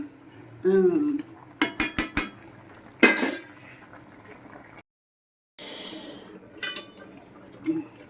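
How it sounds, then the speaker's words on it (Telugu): Metal spatula scraping and clinking against a curry pan while a large Godavari river fish is turned over in simmering gravy, with sharp clanks, sizzling liquid and a pause of silence. "ఒక్కసారి బొర తిరిగేద్దాం, పెద్దది కదా"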